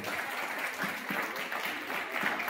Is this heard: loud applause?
yes